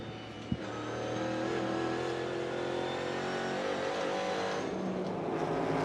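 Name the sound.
NASCAR Cup Series race cars racing on track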